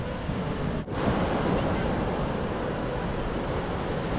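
Sea waves and wind at the beach near the Konark temple, a steady broadband roar of surf with wind buffeting the microphone, continuous and fairly loud, with a brief dip early on.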